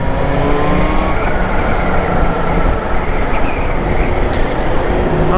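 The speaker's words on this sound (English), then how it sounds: "Listen to that supercharger." A 2021 Kawasaki Z H2 supercharged motorcycle under way, its engine and supercharger giving a loud, continuous, dense roar mixed with wind rush, heard close and without talk.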